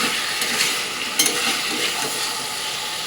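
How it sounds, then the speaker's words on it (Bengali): Chicken leg pieces fry with spices in a pan, giving a dense, continuous close sizzle with a few faint stirring scrapes and no talk. "এবার ভালো করে মশলাটার সাথে চিকেনটাকেও ভাজা করে নেব"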